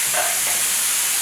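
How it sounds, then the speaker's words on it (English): Potato and tomatoes sautéing for a fish paella on an electric hob in Spain, a steady close hissing sizzle with no voices. "Sauteing the potato and the tomatoes."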